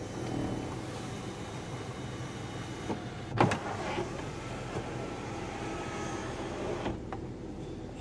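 A 2017 Nissan Maxima sunroof sliding open with a steady electric motor hum inside the car, plus a faint click partway through.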